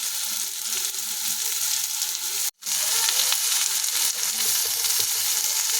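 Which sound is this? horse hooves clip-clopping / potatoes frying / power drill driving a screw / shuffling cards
potatoes frying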